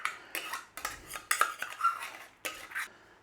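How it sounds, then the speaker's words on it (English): A spoon clinks and scrapes against a pot as a tomato and red lentil mixture is added to cooked vegetables for a shepherd's pie, with about seven short metallic knocks and slides, close and clear. "we're just going to add all that tomato lentil mixture to that"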